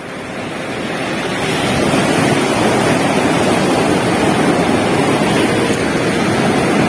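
Surf breaking on Bheemili Beach near Visakhapatnam, a steady loud wash of waves that swells over the first two seconds and then holds, with some wind noise on the microphone and no voices.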